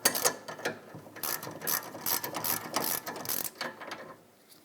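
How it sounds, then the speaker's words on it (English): A 17mm socket ratchet tightens the mounting nut on a rear sway bar link of a 2008-2012 Honda Accord, clicking in quick close bursts with short pauses between strokes. "And put the mounting nut on. 17mm socket and 5mm Allen."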